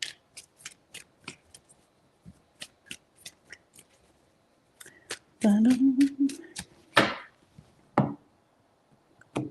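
Close, dry flicks and taps of tarot cards being shuffled and dealt in a quiet room, one after another in a steady run, with a short, louder shuffle burst and a few thumps of cards placed down near the end.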